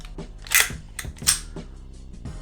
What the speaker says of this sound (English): Eject the mag, make sure there's no rounds